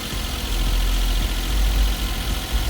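A Suzuki DA64W engine idles after a cold start with a steady low rumble and throb, close and continuous, with no revving.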